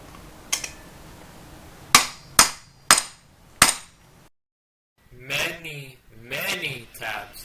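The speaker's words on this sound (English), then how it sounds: "Let's see if I can tap these pins out with a screw" A hammer strikes a screw to tap pins out of a CB750 motorcycle's brake pads, giving five sharp metallic knocks spaced about a second apart, followed by someone speaking.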